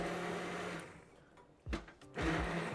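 A blender churns cauliflower potato soup with hot liquid and big chunks, a loud steady whir that fades, pauses, then returns in short bursts and resumes strongly.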